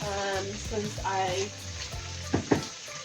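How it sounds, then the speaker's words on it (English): Kale and pork with mushrooms sizzle in a frying pan as they are tossed and stirred, with a steady fry, clattering moves through the first half and two sharp knocks near the end. "I'm just gonna toss this around now"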